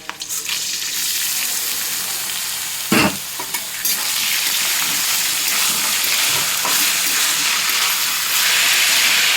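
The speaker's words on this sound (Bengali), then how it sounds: "চালটা এরকম খুব ভালো করে ভেজে নেবে গ্যাসের ফ্লেমটাকে একটু বাড়িয়ে দেবে" Rice fries in a pan over a high gas flame, giving a loud, steady sizzle and hiss that runs throughout, broken by a few sharp stirring scrapes and clatters.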